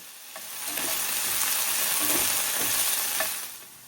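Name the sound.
stirring potatoes frying in a pan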